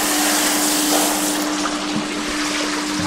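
A bucket of pond water is poured over a koi pond filter, a loud, steady rushing splash that fills the whole moment, with a constant pump hum beneath it.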